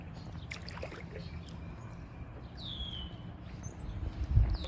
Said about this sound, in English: It's super hard to film and paddle with one hand.